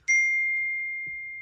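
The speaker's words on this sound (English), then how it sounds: "The bell is banging" A single bell strikes once, a clear high ring that sustains and slowly fades, with faint background rumble.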